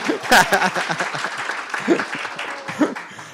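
Brief scattered applause breaks out from an audience at a talk about LGBTQ+ books for school libraries, a short burst of clapping mixed with voices and light laughter.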